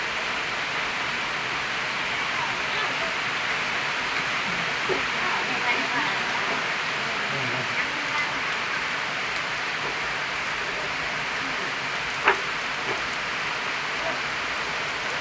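Rain falls steadily in a dense, even hiss that lasts throughout, loud and close, with a few faint knocks and one brief sharp tap rising above the wash.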